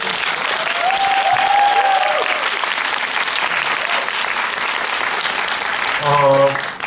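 An audience bursts into warm, sustained applause at a film festival screening Q&A, dense clapping filling the room for several seconds while a host's voice carries over it.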